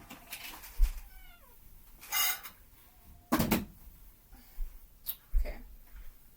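A tuxedo cat meows several times at feeding time, in short separate calls between clinks of dishes and a cupboard bumping nearby.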